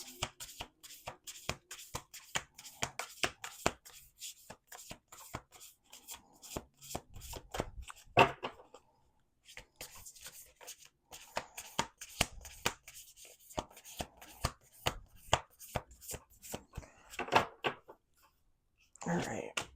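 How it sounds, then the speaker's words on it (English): A deck of tarot cards is shuffled on a table in repeated bursts of quick riffling clicks and snaps, with brief pauses between rounds, while a person speaks softly at times. "we're going to do 2 more shuffles"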